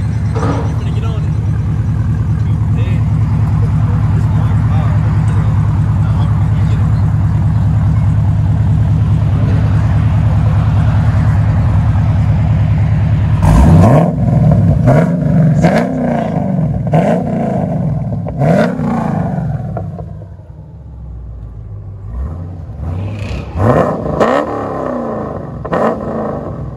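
A 2010 Chevy Camaro SS with a 6.2L V8 and straight pipes or a Corsa exhaust, first rumbling at a loud idle, then revving hard and roaring away with rising, receding exhaust sweeps, with people talking nearby.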